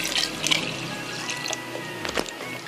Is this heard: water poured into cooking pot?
yes